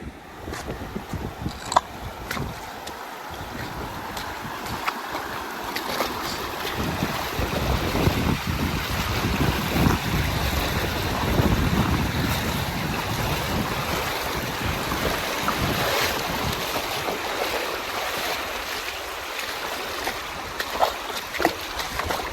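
A slow river flows steadily beside a mountain trail near Macetown on the Te Araroa route, a broad, continuous wash of moving water that stays close and even throughout, with light wind and no talk.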